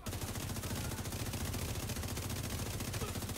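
Rapid automatic gunfire from a weapon in The Division 2, a dense unbroken burst of fast repeated shots, loud and close, with no talk over it.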